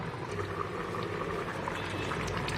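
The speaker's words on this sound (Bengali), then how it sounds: "এই যে তরকারিটা ফুটছে" Catfish curry with green banana, drumsticks, eggplant and potato bubbling in a pot, a steady close simmer of popping bubbles and liquid burbling without pause.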